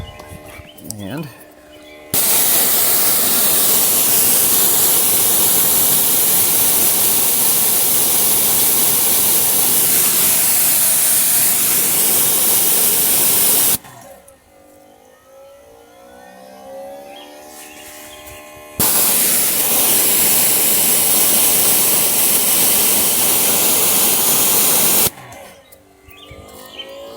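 A Greenworks Pro 2700 PSI pressure washer with its stock nozzle spraying at just under 2500 PSI, a loud broad hiss in two long bursts separated by a quieter pause, with a voice speaking during the breaks.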